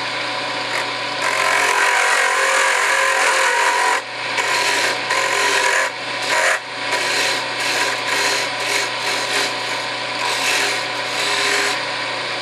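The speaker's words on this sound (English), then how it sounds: "we have to take the parting tool now, and we have to make a small tenon here" A parting tool cuts a small tenon into a spinning wooden pen blank on a lathe, making a continuous, close, raspy scraping that runs unbroken with a few brief dips, alone without talk.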